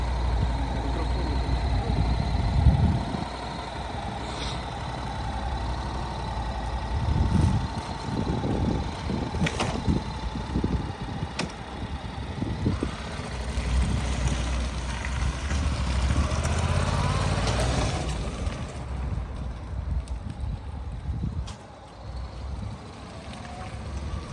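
A Honda NC700X DCT motorcycle with 36,000 km on it runs at a steady low idle, heard moderately close with a few brief clunks and faint background sound, with no talk over it.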